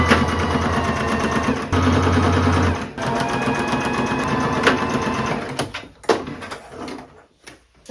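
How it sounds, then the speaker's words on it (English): A sewing machine runs a straight stitch along the panels of a top, humming in fast, steady bursts with brief pauses between runs and a few clicks and thumps as the fabric is handled. "I'm going to do a straight stitch along this portion here on both sides"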